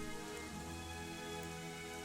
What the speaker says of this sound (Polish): O Jezu, jeszcze głośniej zaczęło padać.